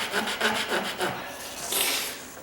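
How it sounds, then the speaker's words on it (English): Wooden quarter round baseboard trim being rasped by hand, a rhythmic series of close scraping strokes, then one longer, brighter stroke, with no talking. "And so I just start rasping it like that."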